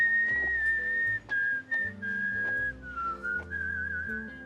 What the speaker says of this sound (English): She finally gets to whistle,